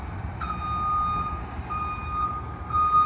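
Fire engine reversing, its high electronic backup beeper sounding in a few evenly spaced tones over a low idling truck rumble at moderate distance.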